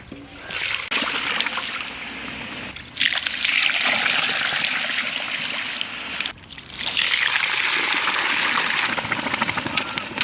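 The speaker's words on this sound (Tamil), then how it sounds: "சக்கரை தாழ்ற அளவுக்கு தண்ணியை சேர்த்துக்கொள்வோம்" Water poured onto sugar in a kadai: three long, loud, splashing gushes broken by short pauses, close by and dominating the sound.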